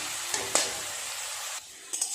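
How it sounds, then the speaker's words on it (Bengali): Shredded potatoes frying in hot oil for crispy jhuri aloo bhaja, a soft continuous sizzle with a few sharper stirring clinks and scrapes, quieter near the end. "বাকি আলুগুলো আমি এইভাবে ভেজে নিচ্ছি।"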